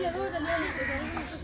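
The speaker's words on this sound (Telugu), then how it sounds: "కాకుల సౌండ్ చూడండి ఎంత వస్తుందో, బాగా సౌండ్ వస్తుంది" Crows caw repeatedly near a beach at Mahabalipuram, a string of harsh calls close by over a background of voices and outdoor noise.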